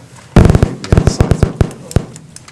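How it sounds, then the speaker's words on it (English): A rapid burst of loud sharp bangs, several strikes in quick uneven succession, like many hammers pounding at once, close and echoing. "That was the sound of hammers."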